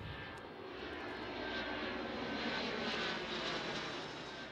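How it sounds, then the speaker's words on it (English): White Knight carrier aircraft flying over a spaceport runway during a rehearsal flight, a continuous distant engine roar that builds gently toward the middle and then eases, heard alone without talk. "The White Knight carrier aircraft is really performing a rehearsal for a real space flight."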